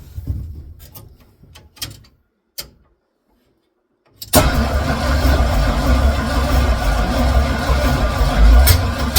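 A 1976 Chevy squarebody truck engine cranks with a few sharp clicks and brief bursts, pauses in near silence, then catches and roars into a loud, steady run that continues to the end.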